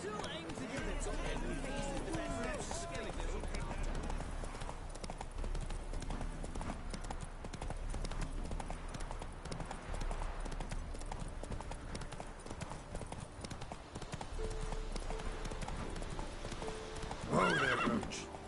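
Roach the horse in The Witcher, hooves clip-clopping at a steady gallop with whinnies breaking through, loud and close throughout, with a sharper neigh near the end; a voice speaks over parts of it.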